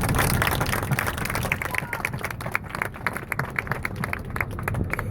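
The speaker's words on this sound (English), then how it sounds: "join me in a round of applause to thank our hardworking captain and crew today" A small crowd aboard a Boston Harbor cruise boat gives a round of applause for the captain and crew, scattered claps under a low engine and background chatter.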